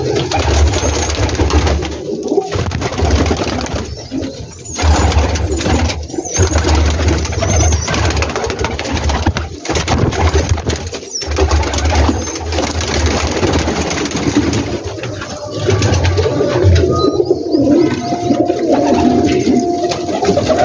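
Pigeons on a large rooftop loft in Gujranwala coo steadily and continuously, many birds close by, with a low engine hum underneath.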